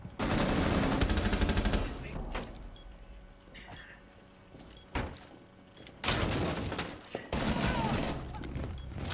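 Loud bursts of automatic gunfire in a Rainbow Six Siege ranked match, with shots going through a bin. Several sharp bursts are split by quieter gaps that hold a few single shots and faint movement.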